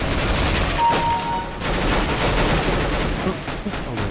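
Gunfire from the video game CS:GO, a steady dense stream of shots filling the mix at constant loudness, with a few faint voice-like sounds underneath.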